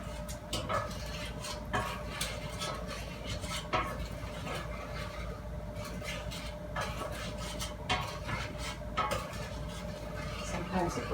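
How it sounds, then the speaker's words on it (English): A spoon stirs white and brown sugar together in a bowl, a run of rhythmic scraping and clinking strokes at close range. "And I'll stir that up real good."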